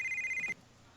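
A phone rings in Grand Theft Auto: Vice City, a short electronic trill that stops abruptly about halfway through, leaving faint background hum.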